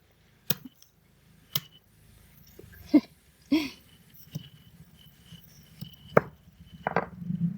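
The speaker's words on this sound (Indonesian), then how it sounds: "Nah, bawang putihnya kita geprek." Garlic cloves being crushed, a few sharp separate thuds and knocks spaced apart in a quiet room, close and fairly soft.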